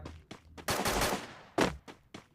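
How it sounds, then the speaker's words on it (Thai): Gunfire from a teammate in the Free Fire mobile game, a few single shots followed by a dense, loud automatic burst, then more scattered close shots. "เหมือนเบอร์สี่จะสับปืนนะ เหมือนจะไปยิงบ้างนะครับ"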